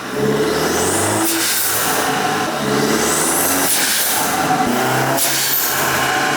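A BMW 330i's B48 engine revs hard several times in succession, each rise and fall roaring close and loud, with a raspy exhaust tone between pulls.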